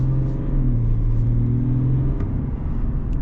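A 2022 GMC Sierra 1500 Denali pickup with a Duramax diesel engine gives a deep, steady rumble close by, the revs swelling slightly without pause.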